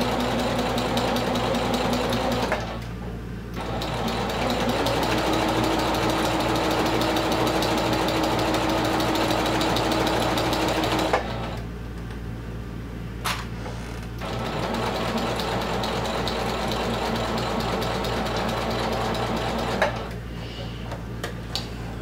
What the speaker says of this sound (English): we're just gonna go ahead and just sew right across there. Just a simple basting stitch for now.